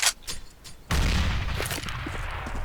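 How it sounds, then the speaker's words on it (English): A grenade explodes on the Mirage map in Counter-Strike: a few light clicks and taps, then a sudden loud boom with a rumbling, sustained blast tail. "I'm throwing a grenade"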